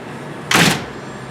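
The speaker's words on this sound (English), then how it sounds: "let's open up the door and I'll show you how it shuts." A Larson storm door on a garage swings shut with one loud, rough thud-and-rattle lasting about a quarter second. It stands out against quiet room tone, and no one speaks.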